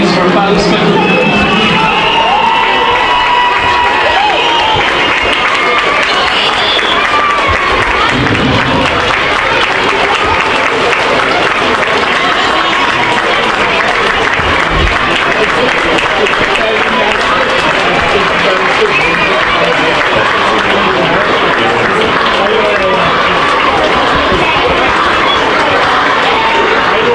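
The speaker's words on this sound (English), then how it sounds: "Would you welcome a big round of applause, please, for Ballinspittle?" A crowd applauds and cheers for the Ballinspittle team at a Frankfield v Ballinspittle match, loud sustained clapping with shouts and crowd chatter throughout.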